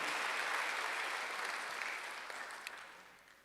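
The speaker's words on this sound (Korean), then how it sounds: "박수야" A church congregation applauds during a Sunday worship service, a soft, dense wash of many hands clapping that gradually tapers off.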